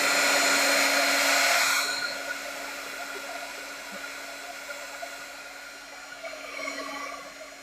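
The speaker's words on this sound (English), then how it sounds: "Hit it with the heat gun." A heat gun blows on a watercolor painting, a loud steady whirring hiss close by for about two seconds, then cutting off and leaving a faint hum.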